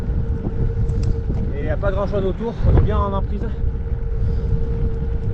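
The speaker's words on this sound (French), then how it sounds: "il y a un gros vent de face" Strong headwind buffets the microphone of a cyclist on an ultracycling race in Morocco, a steady low roar under someone speaking French.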